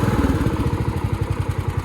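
A Jonsered ride-on lawn mower fitted with a new carburettor and battery idles close by, its small engine thumping in a steady, even rapid pulse with no voices.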